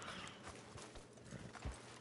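Horse hooves in the video game Red Dead Redemption 2, a faint, uneven clip-clop of a few hoofbeats without speech.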